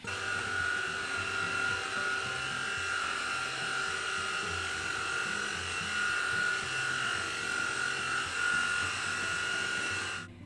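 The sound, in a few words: cordless stick vacuum cleaning wood floor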